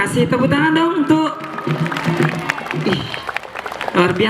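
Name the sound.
audience applause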